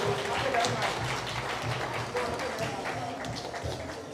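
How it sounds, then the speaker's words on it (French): Audience applauding at an awards ceremony for top distributors, a steady patter of many hands clapping in a hall, mixed with some voices. "On applaudit pour eux."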